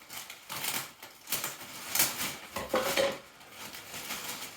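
Scissors snip and crunch through kayak packaging for an Aquaglide Chelan 155, giving a run of crisp cutting and crackling plastic rustles in bursts, close up with no talking.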